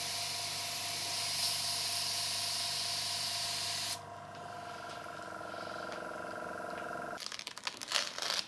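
A spray can hisses loudly and close for about four seconds as light coats of paint go onto a Fender Stratocaster guitar body, then stops, leaving quieter background noise and some faint crinkling.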